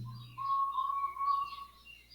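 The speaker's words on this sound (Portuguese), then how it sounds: "Ó o passarinho, velho." A small bird gives a single thin, drawn-out whistled chirp, faint and somewhat distant, over a low background hum with no talk.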